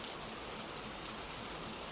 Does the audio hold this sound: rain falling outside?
yes